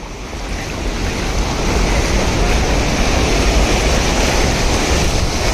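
Floodwater gushing and rushing along, a loud continuous roar that swells after the first second and holds steady, with wind buffeting the microphone and no voices.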